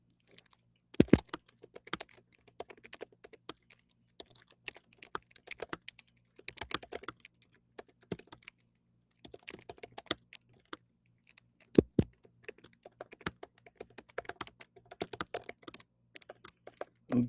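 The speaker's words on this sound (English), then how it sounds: "I'm just typing it in the chat right now." Bursts of computer keyboard typing come in quick irregular clusters separated by short pauses, close and fairly quiet, with no talking over them.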